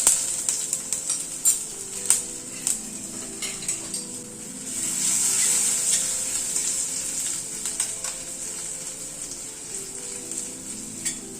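Chopped ginger sizzles in hot oil with asafoetida while cooking moong dal, a steady crackling fry with scattered utensil clinks and stirring scrapes close by.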